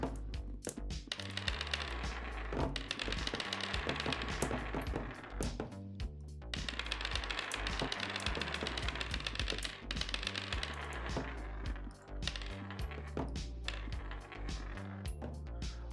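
Dice tumble in the physics game TrickShot Simulator, giving off rapid clattering clicks and clinks against a dense, steady backdrop of game sound.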